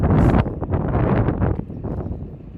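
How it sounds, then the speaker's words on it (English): Gusty wind buffets a microphone with loud, muffled roaring that rises and falls over a couple of seconds, then eases to a softer rush. "It is a little windy here today."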